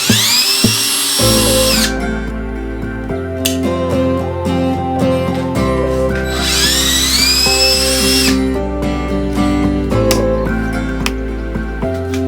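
A power drill works on screws inside a van, with repeated whirring bursts that rise and stop, some higher-pitched spin-ups, and clanks and rattles of metal parts between them. Nobody speaks.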